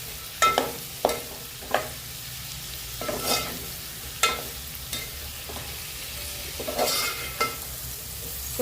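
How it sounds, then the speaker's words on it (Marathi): A spoon stirs a pan of beans and prawn curry mixture for an Agri-Koli prawn rasa, each scrape landing as a sharp knock at an irregular pace over a steady low frying sizzle, with no voices. "या सर्व गोष्टी मस्त पकाळे मिक्स करू"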